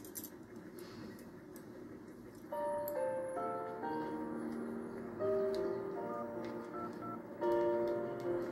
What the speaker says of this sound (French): Allô, patron ?